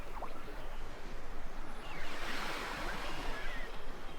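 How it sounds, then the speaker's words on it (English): Water laps against stone steps in a steady broadband wash, a soft continuous slosh and lap with a breezy hiss, no voices, fairly close and even in level. "Water lapping against stone steps, a boat engine starting then fading away"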